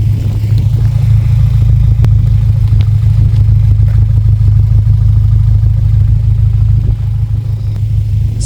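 A loud, deep exhaust drone rumbles steadily from a Toyota MR2 Mk3 Roadster with a cat-back exhaust, close and continuous with a heavy low hum and faint clattering.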